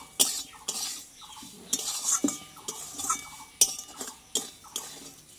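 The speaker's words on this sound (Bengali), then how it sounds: "এবার আলু গাজর সুজিটা একটু ভালোভাবে একটু নাড়াচাড়া করে নেবো আমি" Potato, carrot and semolina are stirred in a pan with a metal spoon, giving sharp clinks and scrapes against the pan in an uneven rhythm, close and fairly quiet.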